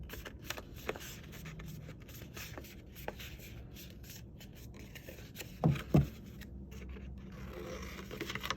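Paper being folded and creased to make a paper flower: soft, close rubbing and scraping of sheets with a couple of brief firmer presses, quiet throughout, with no talking.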